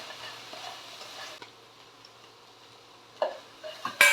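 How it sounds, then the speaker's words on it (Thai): Tofu is stir-fried with vegetarian curry paste in a pan. A utensil stirs quietly with a soft sizzle, and a few sharper scrapes against the pan come near the end. "แล้วก็ผัดไปให้เข้ากันนะคะ"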